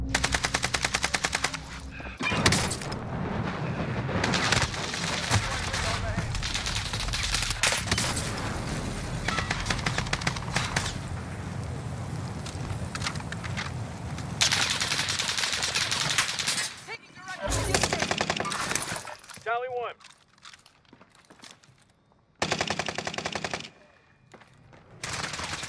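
Automatic gunfire in the video game Warzone, loud sustained machine-gun bursts and rapid shots filling most of the clip with brief pauses, mixed with game voice callouts.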